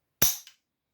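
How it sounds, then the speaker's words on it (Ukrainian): A single sharp mechanical snap of an Anderson A005 carbine's hammer dropping on an empty chamber, crisp and close, followed by a faint metallic click, then silence. "Контрольний постріл."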